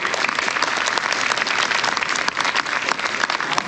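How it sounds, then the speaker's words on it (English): An audience at a spring high school band concert breaks into steady, full applause, a dense wash of clapping that holds at even loudness throughout with a faint crowd murmur and no talk over it. "Give a round of applause."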